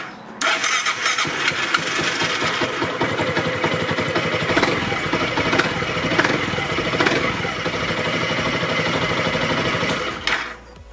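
A Piaggio MP3 500 Sport scooter engine starts and runs steadily for about ten seconds close by, a constant mid-pitched motor drone that then cuts off.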